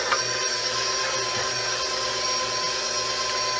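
A stand mixer runs steadily, kneading beer-based pizza dough with a continuous motor hum and faint rhythmic churning, alone and fairly close.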